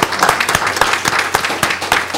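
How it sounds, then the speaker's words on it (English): Audience applause at a school board meeting honoring a young girl, a dense burst of many hands clapping close and loud for a couple of seconds, with no voices over it. "Let's give her a round of applause."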